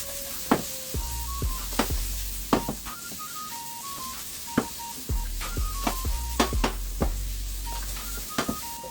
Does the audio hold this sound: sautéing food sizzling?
yes